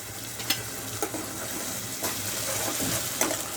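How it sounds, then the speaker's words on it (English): Fresh tomato puree hits a hot kadai pan while cooking kadai paneer, making a soft, steady sizzle and bubbling hiss with occasional faint stirring clinks. "Now we'll add tomato puree in that, guys."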